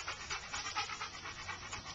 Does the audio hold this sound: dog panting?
yes